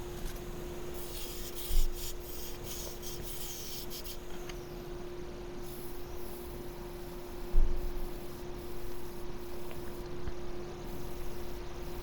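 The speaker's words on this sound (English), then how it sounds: "then we'll sand all of this and then part it off and flip it around" Steady rubbing hiss of sandpaper against a maple burl and walnut urn spinning on a woodturning lathe, with a constant motor hum underneath and two brief louder scuffs, close and continuous.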